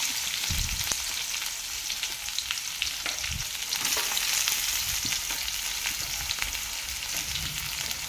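Finely chopped garlic and onion fry in a pan for a green pea usal, giving a dense, even sizzle with a few soft stirring thumps, close and steady throughout and without voices.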